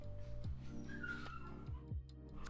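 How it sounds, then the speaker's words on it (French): A dog whimpers and yips in a series of short, pitched cries with a few sharp bark-like bursts, fairly close and moderately loud. "il va aboyer parce qu'il est pas content"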